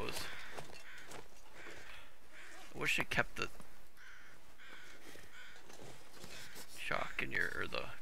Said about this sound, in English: Oh, the crows.